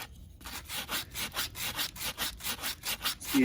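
Hand sanding of wood with sandpaper twisted into a cone, worked into the inside corner of a circular wooden pull-string top: steady rhythmic rasping strokes, about six per second, close and fairly loud, with no talk.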